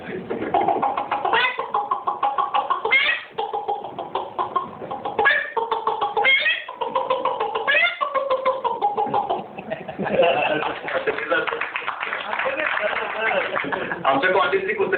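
A man imitates a chicken's clucking with his voice, beatbox style, in a string of short pitched bursts and warbles that fill the clip with barely a pause.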